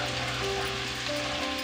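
Curry masala frying in a pan for a Pakistani dhaba-style chicken curry, giving a steady, close sizzle with a faint hum that holds evenly throughout, without any speech.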